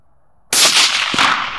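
A single loud rifle shot fired at a target about 180 yards away outdoors cracks sharply out of near silence, then rolls into a sustained echoing boom.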